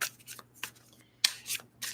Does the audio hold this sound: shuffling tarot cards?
yes